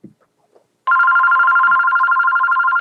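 A telephone rings with an incoming call, giving one continuous electronic trilling tone close by and loud after a couple of faint knocks.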